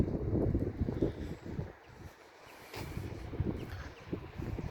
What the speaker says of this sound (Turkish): Veya bir rüzgar var arkadaşlar.